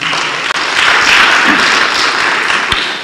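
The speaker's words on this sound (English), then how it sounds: "Let's clap for ourselves." Applause from an audience at a memorial service fills the space, a steady dense wash of clapping lasting a few seconds without speech.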